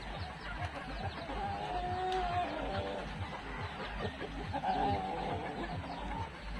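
Backyard chickens clucking near and far, with soft repeated clucks and a couple of drawn-out calls over a low steady background, no talking.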